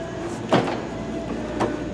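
The entry door of a 2015 Airstream Interstate van opens fully with a sliding, rolling clunk, then a second softer knock as it settles, over a steady low hum.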